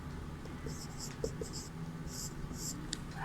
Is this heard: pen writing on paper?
yes